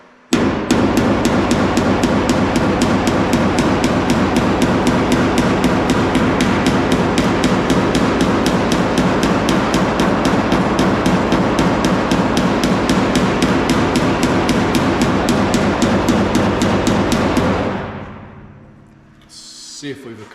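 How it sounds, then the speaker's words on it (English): Rapid, steady hammering as a pointed body hammer peens the sheet-metal bedside of a 1976 Chevy truck, dense metallic blows repeating loudly for about seventeen seconds before stopping abruptly. "we'll just take a body hammer. It's got a point on it, and we will just take and peen this a little bit"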